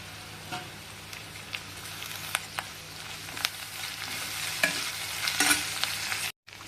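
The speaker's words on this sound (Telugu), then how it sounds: "సో దీంట్లో కాస్త అల్లం వెల్లుల్లి పేస్ట్ వాసన పోయే వరకు పచ్చి వాసన పోయే వరకు వేయించుకుందాం" Ginger garlic paste fries with onion and curry leaves in a pan, a steady low sizzle broken by scattered scrapes and taps of a stirring spoon, close and quiet, ending in a brief drop to silence.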